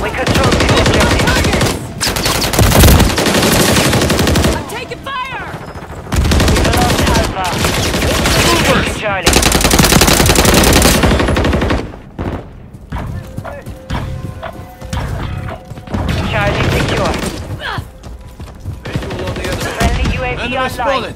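Bursts of loud automatic gunfire and explosions from Call of Duty Modern Warfare III multiplayer come in dense volleys separated by short pauses, with radio-style game voice callouts between the bursts.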